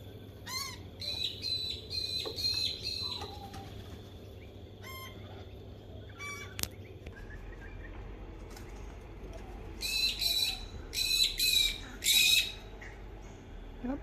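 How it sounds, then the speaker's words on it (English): Crows and other birds squawk around scattered food outdoors, with harsh calls coming in bursts near the start and again louder toward the end, over a steady low background rumble. "Oh, here come the crows."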